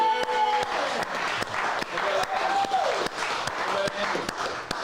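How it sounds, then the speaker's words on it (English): An audience at a live hand-training workshop applauds, with steady clapping throughout and scattered voices talking over it. "Big applause for the support they give us."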